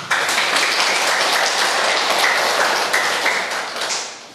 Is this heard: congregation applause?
yes